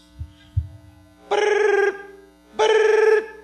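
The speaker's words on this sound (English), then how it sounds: "She proceeds to go through every type of ring that the cell phone has." A cell phone ringtone sounds in two separate bursts, each a buzzy electronic ring lasting about half a second, loud and close, with a couple of soft handling thumps before the first.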